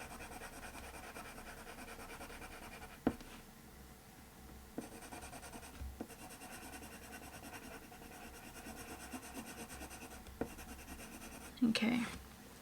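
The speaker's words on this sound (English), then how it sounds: "I'm just going to use the white pencil just to add in" A white colored pencil blending over paper, a soft continuous scratchy rubbing with a few sharper taps and clicks, close and faint. Quiet background noise runs beneath it.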